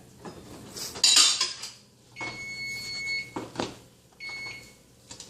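Mahi fish being served out of a pan, with clinking dish and utensil scrapes, a sharp metallic clatter near the start, and a steady electronic beep repeating twice in between, close and moderately loud.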